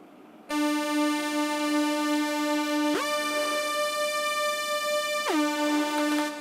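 A sustained tone from the Native Instruments Rounds software synthesizer with rich, bright harmonics, holding steady and then sliding sharply in pitch twice, loud and alone.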